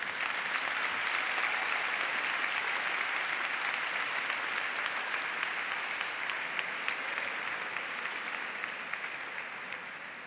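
Sustained applause at a university graduation ceremony, a broad, even patter of many hands clapping across the hall, slowly thinning near the end.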